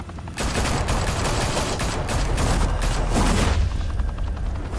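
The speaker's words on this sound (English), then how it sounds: "They weren't worried about hitting Falcone at all. They just started shooting." Police open fire in the Batman Telltale video game, a dense, continuous burst of loud overlapping gunfire and automatic weapon shots that runs without pause for about five seconds.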